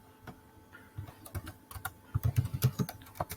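Fast typing on a computer keyboard, irregular bursts of key clicks that grow denser and louder toward the end, close and alone with no talk.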